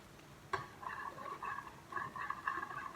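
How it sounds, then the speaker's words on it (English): Bread dough mixture being whisked in a bowl, a faint, close rhythmic scraping and tapping that starts with a sharp knock and keeps going in quick strokes. "give that a whisk"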